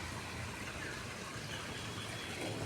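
Steady rushing water flows continuously at UP Diliman, Quezon City, a faint, even wash of sound with no voices.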